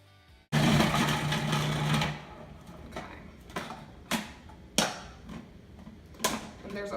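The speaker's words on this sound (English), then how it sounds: "I have my shredding blade and my food processor, and I'm just gonna go ahead and shred these" A food processor with a shredding blade shreds rotisserie chicken. It starts with a loud whirring burst, then runs on as a lower drone broken by repeated sharp clatters as pieces hit the blade.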